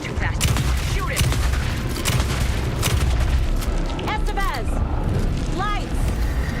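Dense, continuous gunfire and booming blasts from the Alan Wake 2 video game, with shouting voices breaking through the barrage.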